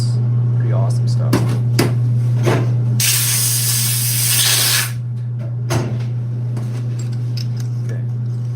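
A spray gun lays down a burst of De Beer DTM 80-222 direct-to-metal primer sealer on a Ford F250 Tremor tailgate. The sharp hiss lasts about two seconds over a steady low hum, with clinks and shuffling around it.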